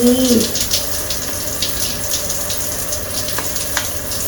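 Water sprays steadily from a resort shower head, a close and continuous hissing rush that runs the whole time, with a brief voice at the start and a couple of faint clicks.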